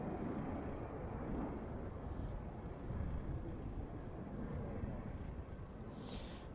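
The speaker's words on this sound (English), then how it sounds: "This specifically is an F-16AM." A Danish F-16AM fighter jet arriving at an air show, its broad steady jet roar filling the air at a distance with no voices over it.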